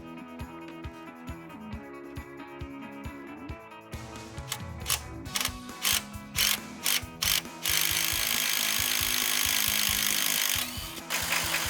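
A hand ratchet works a rusty strut nut on a 2007 Ford Explorer, starting with slow clicking, then a series of loud separate ratcheting bursts, ending in a sustained harsh grinding noise.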